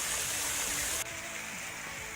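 Waterfalls in Springbrook National Park, Australia, pour with a steady broadband rush of falling water, heard close and continuous without voices.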